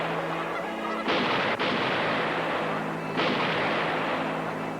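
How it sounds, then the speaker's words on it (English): Hunters fire on wild geese, loud gunshot bursts booming over a dense, noisy backdrop, with honking goose calls mixed into the din. "his favorite pair had heard the shooting too"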